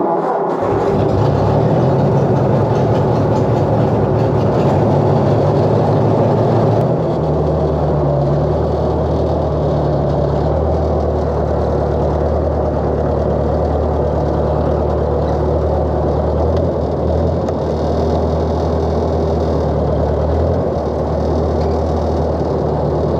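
A vintage Ford Workmaster tractor engine cold-starts in snow and settles into a loud, steady low idle, close by and continuous, with a shift in tone partway through.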